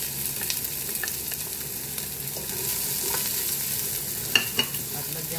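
Garlic and onion fry in oil in a pan with a steady close sizzle, broken by a few sharp scrapes and clinks of stirring, no talk.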